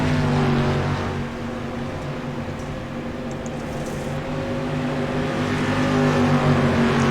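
Dirt-track race cars in the iRacing simulator roar in a steady, loud engine drone with layered humming tones, swelling slightly toward the end.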